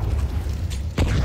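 A grenade goes off during a professional Counter-Strike match on the Overpass map, with a low rumbling game backdrop and a sharp burst landing near the end, moderately loud.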